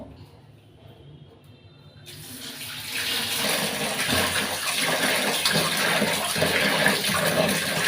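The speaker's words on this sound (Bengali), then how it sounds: "এখন আমি হাঁসের মাংসটা ধুয়ে নিব" Tap water starts after a short quiet stretch and then runs steadily into a sink while duck meat is washed, a loud close splashing gush with faint voice in the background.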